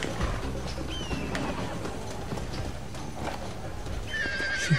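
Horse hooves clip-clop at a gallop throughout in the video game Red Dead Redemption, loud and close, with a whinnying neigh breaking in near the end.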